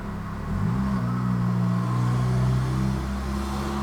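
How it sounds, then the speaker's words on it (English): A Jeep engine revs outside an open window, a low rumbling rise in pitch that holds steady and then slowly settles, heard from a distance through a room with no talking. "Sorry about the Jeep noise there."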